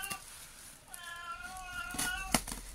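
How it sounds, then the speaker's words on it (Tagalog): A house cat meows for food, one clear drawn-out meow in the middle with a shorter cry after, fairly faint against room noise and rustling. "Hingin ng pusa namin."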